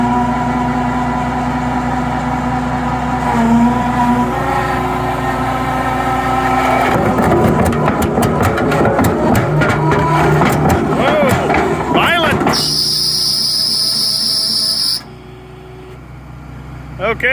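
A New Holland skid steer engine fires up and holds at three-quarter throttle, a loud, steady diesel drone with rattling machinery and a sharp mechanical burst near the end, under occasional voices.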